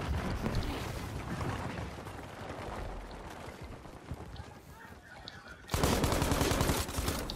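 Gunfire in Battlefield 5, dense rattling bursts of shots with explosions in a chaotic battle, sustained throughout and surging louder near the end, with players talking over it.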